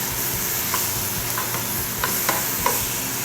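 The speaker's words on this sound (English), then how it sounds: "you just want to move that cheese around and it'll start to break down and melt" Cheese melting with peas and mushrooms in a pan, stirred with a few soft scraping clicks over a steady low sizzle, close and alone with no talking.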